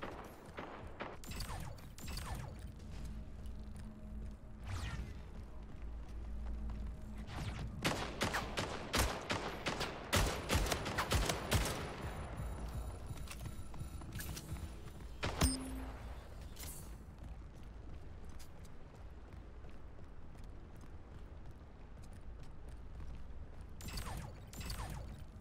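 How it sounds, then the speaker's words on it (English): Sniper rifle shots in the arena shooter Splitgate ring out amid busy game effects and clicking mechanisms, with several sharp cracks clustered midway and one strong, isolated shot after that. "That was two headshots. I just missed the third shot."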